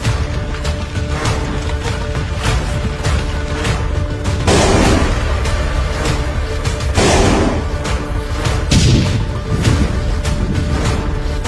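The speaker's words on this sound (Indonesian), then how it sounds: "Empat jam bertahan menghadapi tembakan meriam tentara Jepang." Repeated heavy booms of distant Japanese army artillery fire, several blasts spaced a few seconds apart over a constant rumbling background.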